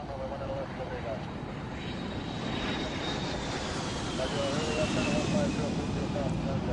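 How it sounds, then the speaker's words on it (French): A fixed-wing airplane takes off toward Groom Lake, its engine drone rising steadily and growing slightly louder, heard under continuous talk. "un autre vol Jeannette décolle en direction de Groom Lake"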